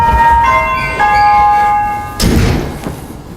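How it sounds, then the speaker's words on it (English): A bright doorbell chime rings with sustained tones that fade, followed by a dull thump partway through. "We'll do the doorbell again, knock on the door, everything all at once."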